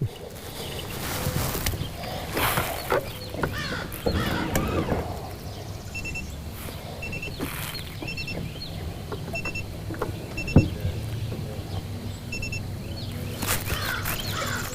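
A trolling motor on a fishing boat gives short, high electronic chirps in small evenly spaced bursts, fairly quiet over a background of water and boat noise.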